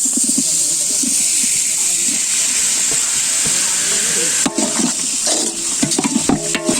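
Tomatoes frying in a pan with sautéed onions for turkey gravy, a steady close sizzle and hiss with stirring scrapes that grow busier near the end, no voices.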